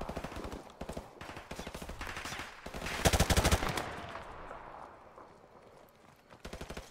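Gunfire in the Modern Warfare Remastered shooter: repeated bursts of automatic rifle fire, sharp and fairly close, with a dense heavy volley in the middle and short gaps between bursts.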